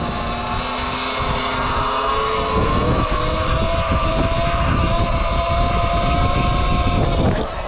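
Electric bike in eco mode pulling a wheelie, its motor giving a steady whine that rises in pitch partway through over continuous road and wind rumble, close and loud throughout.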